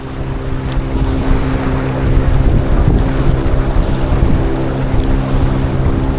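Boat ride to Bhogwe on the Konkan coast, a steady motorboat engine drone with rushing water and heavy wind buffeting the microphone throughout, loud and close, with no talk.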